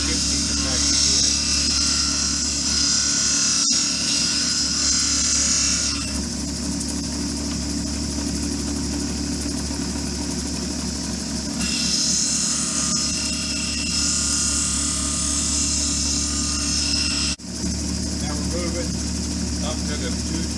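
An Apache tear stone is ground on an 80 grit wheel, a steady motor drone under a rasping scrape that swells in two long bursts, close and loud, with a voice talking over it.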